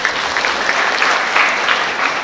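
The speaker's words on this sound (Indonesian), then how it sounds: "Tepuk tangan." An audience claps steadily through a church liturgy gathering, dense continuous applause held at an even level from start to finish with no voices over it.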